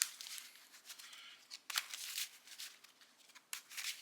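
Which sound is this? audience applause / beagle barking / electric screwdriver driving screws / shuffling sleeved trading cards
shuffling sleeved trading cards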